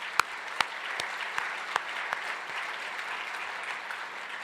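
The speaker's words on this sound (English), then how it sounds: "Everyone, please, let's give them a round of applause." Audience applause at a regional business event fills a room: steady, moderately distant clapping from a crowd, with a few sharper individual claps standing out, no talk over it.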